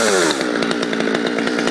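A Stihl MS200T chainsaw with its muffler screen removed and the muffler bored out runs at high revs, a very loud, steady, raspy engine roar close by that fills the whole moment with no talking.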